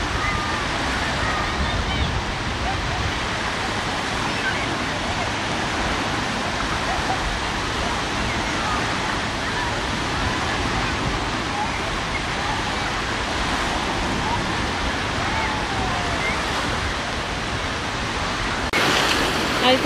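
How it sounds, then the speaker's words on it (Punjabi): Sea waves breaking on a beach at evening as the surf grows rough, heard as a steady, loud broadband wash with cool wind gusting into the microphone throughout, and no talking. "ਸਮੁੰਦਰ ਦਾ ਪਾਣੀ ਵੀ ਤੇਜ਼ ਛੱਲਾਂ ਮਾਰ ਰਿਹਾ ਸਮੁੰਦਰ 'ਚ ਆਵਾਜ਼ ਵੀ ਬਹੁਤ ਆ ਰਹੀ ਹੈ"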